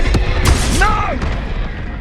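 Fiery Confringo spell blast in Hogwarts Legacy, a loud boom with crackling burst and swooping magical whistles fading over two seconds, a voice shouting briefly over it.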